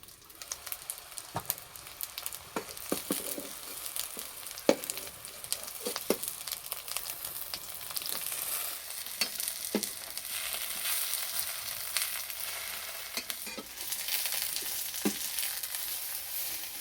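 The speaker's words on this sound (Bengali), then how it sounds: "এই যে পাতাগুলো ভাজা হচ্ছে" Gram flour fritters wrapped in pumpkin leaves frying in oil over low heat, with a soft, steady sizzle and scattered crackles that hold for the whole stretch, fairly quiet and without talk.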